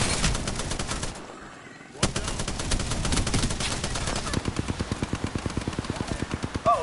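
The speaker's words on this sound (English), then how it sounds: "Oh, you're getting shot from above." Rapid bursts of automatic gunfire in a shooter video game, with enemies firing from above; a short pause gives way to sustained, evenly spaced shots growing into a fast rhythmic volley.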